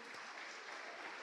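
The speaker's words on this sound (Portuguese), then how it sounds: "pode aplaudir" A church congregation applauds in a dense, even wash of clapping that holds steady but sounds faint and distant for about a second.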